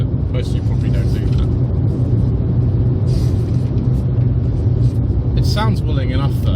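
A 2009 Fiat 500 with the 1.2 engine drives along, its low engine drone and road rumble steady and loud inside the cabin throughout.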